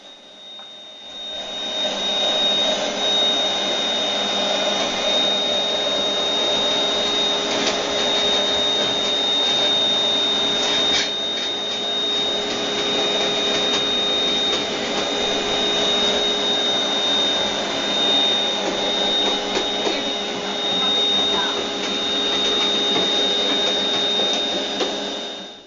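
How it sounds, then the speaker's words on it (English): A vacuum cleaner running steadily inside the hull of a 35-foot ferro-cement yacht, a continuous high whine and rushing hiss that stays at even loudness the whole time, close by and with nobody talking. "There's Rhonda doing a bit of vacuuming."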